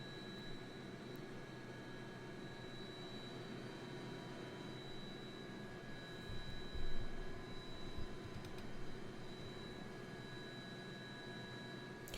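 A helicopter in a flight simulator game gives off a steady, droning rotor and engine hum with faint tonal whine, continuous and even throughout, swelling slightly midway, with no talking.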